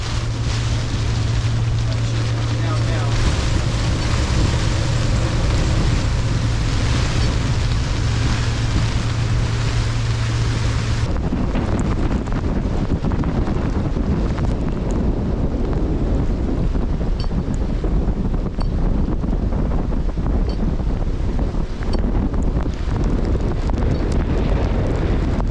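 Hurricane Kay wind buffets a sailboat anchored in the Sea of Cortez, a loud, relentless roar with heavy microphone wind noise and gusts, a steady drone early on that then breaks into rougher, rumbling blasts.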